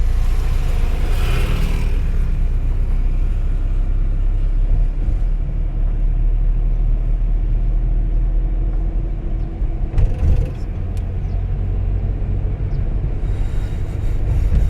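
A car engine revs hard and continuously at close range during a driving lesson with gear-shifting practice, a loud, steady rumble with a brief surge around the middle.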